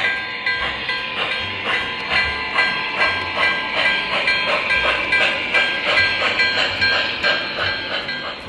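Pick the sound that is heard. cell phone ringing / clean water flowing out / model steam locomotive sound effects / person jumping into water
model steam locomotive sound effects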